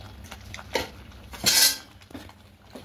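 Turmeric powder being stirred into Govindobhog rice khichuri in a metal pot, giving a few scraping, clinking strokes with one louder scrape midway, close and alone without talk.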